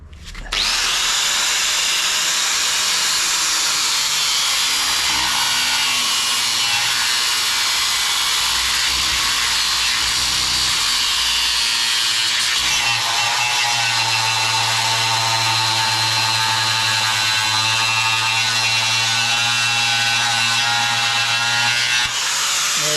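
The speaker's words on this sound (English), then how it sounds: "So I'm just going to have to cut those last couple of bolts off." An angle grinder cuts through rusted bolts on an 80 Series, a loud, high, sustained whine that shifts in pitch as the disc bites and eases, continuous and close with no talk.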